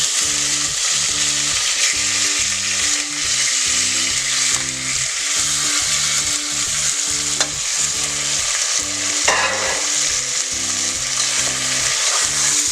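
Chicken pieces sizzling and frying in a pan of oil for chicken haleem, a steady loud hiss with repeated stirring scrapes throughout, no voices.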